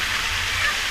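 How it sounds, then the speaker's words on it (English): Waterfall at a seaside resort on Mactan Island, a steady broadband rush of falling water at close range, continuous through the second with a faint voice beneath. "Yeah, waterfall."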